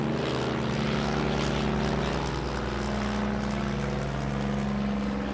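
Dornier Do 27 propeller aircraft at an airshow, its steady engine and propeller drone loud and continuous throughout with a constant low hum, no voices.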